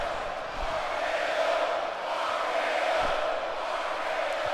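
Video game arena crowd noise from a WWE 2K wrestling match, a steady, dense roar of cheering and chanting that holds evenly at moderate level throughout, with no distinct voice standing out.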